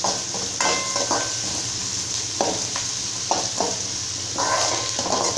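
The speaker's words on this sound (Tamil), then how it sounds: "இப்போ இதைய எல்லாத்தையும் சேர்த்துட்டு ஆயில இந்த மாதிரி நல்லா வதக்கிக்கலாங்க" Onion and curry leaves sauté in oil for wheat semiya, a close sizzle broken by repeated scraping stirs of a spatula against the pan.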